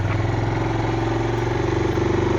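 A 2019 Suzuki KingQuad 400 FSI ATV engine idles in four-wheel low gear, a steady close-up low throbbing putter with an even pulsing rhythm throughout.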